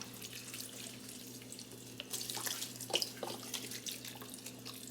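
Tap water running steadily into a cooking pot holding leftover Thanksgiving turkey and stock for broth, a continuous close rush that thickens and grows louder midway as the pot fills, with no talking.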